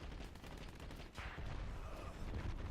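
Continuous gunfire from the Dirty Bomb shooter game, a dense fusillade of rapid shots that stays loud and steady across the whole stretch, with no talking.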